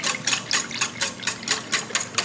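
Egg nog mixture spiked with booze, salt and nutmeg being whisked by hand in a bowl, a steady rapid rhythm of bright scraping strokes, about four beats a second, close and clear with no talking.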